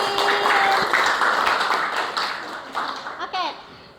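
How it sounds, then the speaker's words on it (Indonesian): Students in a classroom clap for a classmate during a teaching-practice lesson, a short burst of scattered applause with voices talking over it that then trails off. "terima kasih, tepuk tangan Kevin."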